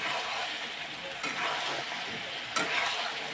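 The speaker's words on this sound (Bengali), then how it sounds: "এই দেখো আলুগুলো দিয়ে কষাবো ভালো করে" Potatoes sauté in a hot pan, a constant dense sizzle with two brief scraping stirs, close and fairly loud.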